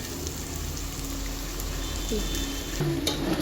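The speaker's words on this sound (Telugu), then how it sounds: "ఇదిగోండి మసాలా అంతా ఫ్రై అయింది చూడండి" Biryani masala frying in a pan, a dense, even crackling sizzle like light rain that runs steadily throughout, close by, with a faint clink near the end and no talking.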